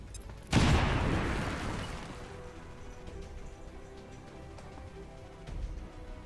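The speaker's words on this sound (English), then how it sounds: "So we're going to throw our grenade right here. Fire in the hole." A thrown grenade in the XCOM 2 video game detonates with a sudden loud blast, followed by a long rumbling decay and debris crackle, with a smaller thump near the end.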